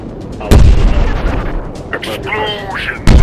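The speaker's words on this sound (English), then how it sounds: "Explosions! I love explosions!" Jet fighter video game combat with a MiG-21: two loud booming explosions bracket a rumbling stretch of battle noise, with clipped radio chatter running underneath.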